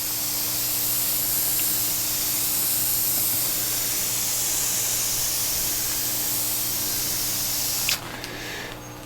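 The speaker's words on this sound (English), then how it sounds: "Now I'm gonna spray a finish on instead of brushing or rubbing" Aerosol finish sprayed from a can onto a barn beam mantle above a brick fireplace, a steady close hiss running nearly continuously before cutting off abruptly near the end.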